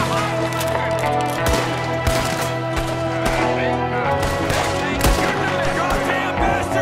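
Gunfire from Red Dead Redemption 2 crackling as repeated sharp shots over a dense game soundtrack, with a voice talking throughout.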